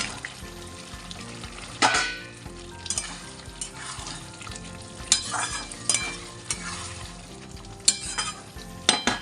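Potatoes and pointed gourd sizzle in a spiced masala for a potol aloo dum, a steady frying hiss broken by repeated sharp bursts of stirring and scraping in the pan.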